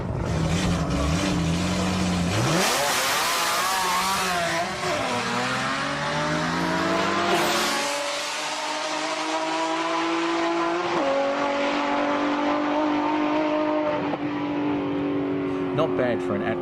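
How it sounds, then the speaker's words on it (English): A rear-wheel-drive Z32 drag car with a naturally aspirated VG30 engine and six-port nitrous launches and revs hard at Sendai Highland, its engine note climbing through the gears, loud and close, with a voice talking over it. "This Z32 has been running at Sendai for a couple of years now, with a naturally aspirated VG30 engine and 6-port nitrous system."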